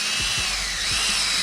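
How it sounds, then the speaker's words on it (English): Power drill boring into a trailer during a DIY build, a continuous high whine with a few quick surges as the bit bites, loud and close with no talk. "So we drilled everything."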